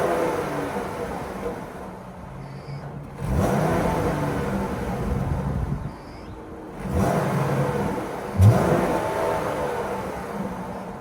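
A Jeep Grand Cherokee's 3.6-liter Pentastar V6 idles steadily with a low, rumbling hum, swelling in a few louder surges as it revs slightly, close and continuous.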